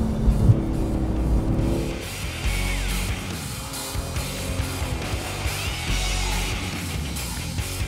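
A 2018 Porsche 911 GT2 RS drives at speed, its engine a sustained loud drone with shifting tone and slight rises, heard from on board with no talk.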